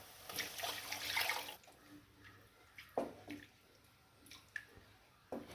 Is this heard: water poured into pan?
yes